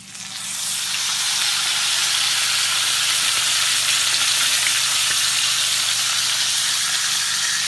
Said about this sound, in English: Now we're ready for the steak. You want to just place it nice and carefully on the front of the pan.